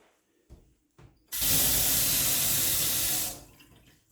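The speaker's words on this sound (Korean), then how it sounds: "수압도 좋고 물도 아주 잘 나오고 있습니다" A kitchen sink faucet in a rural farmhouse opens with a loud, steady rush of running water that lasts about two seconds before shutting off, after a couple of soft clicks and with no speech.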